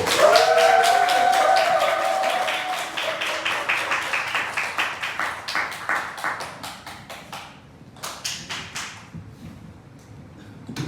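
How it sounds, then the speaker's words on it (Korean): Church congregation clapping at a Sunday service as a deacon comes forward, starting as a full burst under a brief voice, then thinning into distinct individual claps that slow and scatter toward the end. "나오실 때 우리 큰 박수 많이 받으세요."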